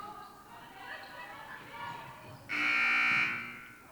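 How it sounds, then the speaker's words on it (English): In a quiet high school gym during a girls' basketball game, a loud electronic buzzer blares once for about a second, cutting in sharply over the faint background of the game. "As we just had a random buzzer sound as Scally misses that one."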